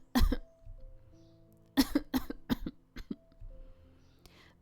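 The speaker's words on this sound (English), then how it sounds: "The sudden onset of the coughing fit makes you flinch" Coughing fit in the dark visual novel game Scarlet Hunt: a burst of harsh coughs, then a longer run of several rough, spaced coughs over a quiet background with a faint low hum.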